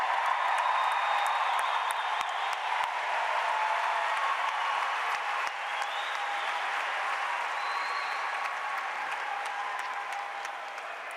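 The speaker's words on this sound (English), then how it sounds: "Would you join me in one more round of applause for our graduates?" Sustained applause from a large commencement audience honoring graduates, dense and steady clapping filling the hall for the full stretch, fading slightly toward the end.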